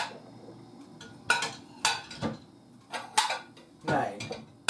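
Clean plates and dishes are slid into a kitchen dish-drying cabinet, giving several sharp ceramic clinks and clatters with quiet pauses between them. They sound close.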